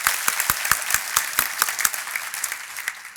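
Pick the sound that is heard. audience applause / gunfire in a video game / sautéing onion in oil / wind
audience applause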